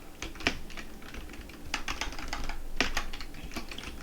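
Computer keyboard typing while entering code annotations for a Spring Boot REST API, with a steady run of close, crisp key clicks and a few louder strokes, no voices.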